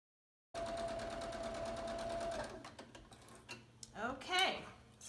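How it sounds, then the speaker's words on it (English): A sewing machine chain-stitches scrap quilt block pieces in one fast, steady run of about two seconds, then stops, followed by light fabric handling and clicks up close. "then I will go ahead and sew"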